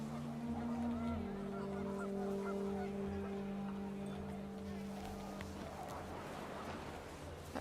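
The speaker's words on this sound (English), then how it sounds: "The wind picked up and panicked geese appeared and quickly went." Geese in the video game What Remains of Edith Finch honk steadily over a loud, continuous engine-like drone, the calls blending with a rumbling mechanical hum throughout, as wind picks up.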